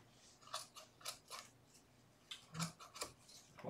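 Scissors snip through material while trimming a cornice board for wall art, a series of short, quiet cuts in irregular bursts, close by and with no one talking.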